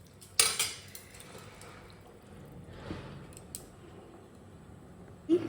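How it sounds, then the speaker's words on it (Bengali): A spoon scrapes and clinks against a pot while ghugni is stirred, one sharp metallic knock at the start, softer scraping after it, and another clink at the end. "এখন একটু নাড়িয়ে তারপর ঢাকনা দিয়ে রেখে দিতে হবে।"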